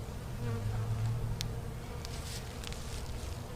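Honeybees hum around an opened cutout hive outdoors. A steady, close buzz carries throughout, swelling briefly near the start, with a few faint clicks and light rustles.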